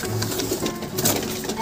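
Pigeons cooing softly in a pigeon house, a low rumbling coo mixed with ambient noise and faint background voices.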